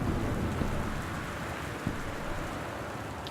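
Steady rain pours in a stormy night scene from the video game Gone Home, a dense continuous wash of rainfall with a brief low thunder rumble partway through, fairly loud and with no talking.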